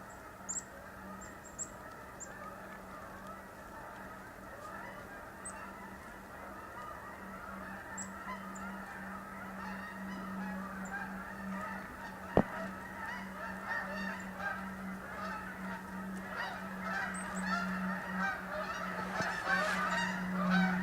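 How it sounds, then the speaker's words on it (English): Geese honk repeatedly at a distance, a steady chorus of calls carrying over an outdoor backyard bird-feeding scene, with a low steady hum underneath. "Hear the geese?"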